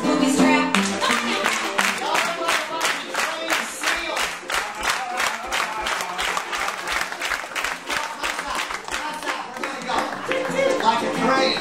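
Audience at the Hoop-Dee-Doo Musical Revue at Fort Wilderness, Walt Disney World, clapping along in steady rhythmic beats over lively music, a crowd keeping time with the show for several seconds.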